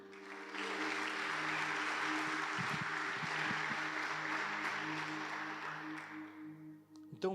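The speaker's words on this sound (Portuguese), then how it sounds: "Vamos aplaudir Jesus por isso?" A church congregation breaks into sustained applause, dense and even, swelling quickly and then tapering off gradually, with faint low voices and rumble beneath.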